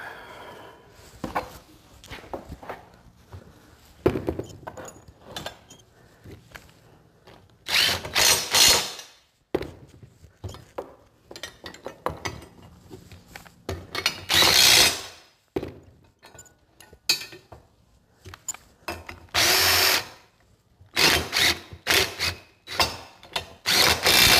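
A power drill tightens bolts on a log grapple in repeated bursts, each a loud whirring run lasting a second or two, separated by quieter handling noises and short pauses.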